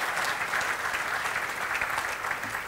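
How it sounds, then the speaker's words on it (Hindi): Loud, dense audience applause fills a hall at the 4th Yash Chopra National Memorial event, a steady wash of many hands clapping throughout with no break. "ज़ोरदार ताली बजाइए"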